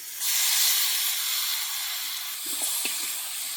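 Marinated chicken pieces hit hot spiced masala cooked down with mango leaves, for a Bengali chicken curry, setting off a loud, steady sizzling hiss that rises quickly and holds, with a few faint clinks near the end.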